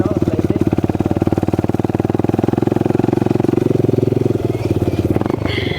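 A motorcycle engine throbs steadily while riding, loud and close with an even pulsing beat, before a brief rattle and change near the end.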